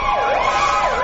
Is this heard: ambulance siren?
yes